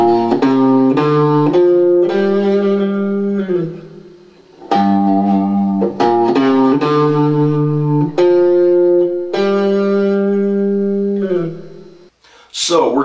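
A minor pentatonic scale picked note by note on a twangy plucked string instrument, running up and back down in steady sustained tones, loud and close.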